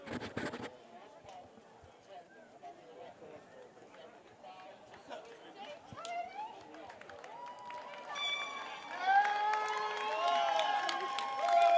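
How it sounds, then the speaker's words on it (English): Home crowd at a varsity high school football game between Loyola Blakefield and McDonogh, distant cheering and celebrating under an announcer's voice, swelling louder toward the end with whistles and shouts. "The McDonogh crowd already celebrating like they've won the game."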